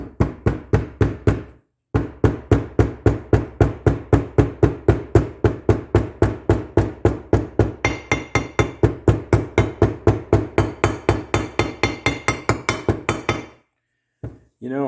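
A small hammer taps a seal into a Honda CT90 rapidly and steadily, dozens of sharp ringing metal strikes in a fast, even rhythm with a brief pause early on.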